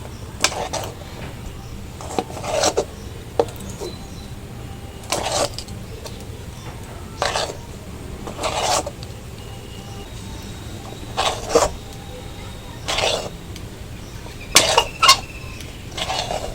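A spoon scrapes and stirs thick sandesh dough in a wok just taken off the heat, giving short irregular scraping bursts separated by quiet gaps over a low background hum, with no speech.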